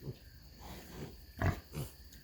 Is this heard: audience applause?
no